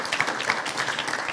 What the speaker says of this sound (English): So if we could give those folks a round of applause,